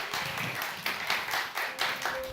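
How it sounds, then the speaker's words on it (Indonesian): A church congregation claps in a brisk, uneven patter of many hands, rising and falling in small waves throughout the short stretch without any voices on top. "Anto, kasih tepuk tangan yang paling meriah untuk setiap orang-orang yang melayani"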